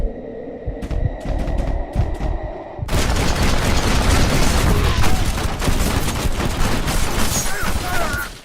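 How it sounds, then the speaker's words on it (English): A rapid volley of video game gunfire from Red Dead Redemption's final shootout erupts, dense overlapping cracks and booms following a few sharp isolated shots over a low hum, loud and sustained. "this hope dies in a blaze of gunfire."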